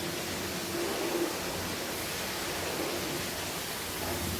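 Chicken biryani ingredients frying in a pan give off a steady, dense sizzle that hisses evenly throughout, with no voices over it.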